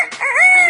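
A mimicking bird imitates a rooster's crow in one rising then long sustained call, clear and close, with no talk over it.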